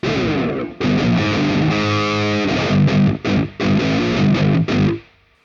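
A distorted electric guitar lead, played through an amp simulator plugin, plays alone, thick and sustained, with short pauses between phrases and a bend or held note in the middle.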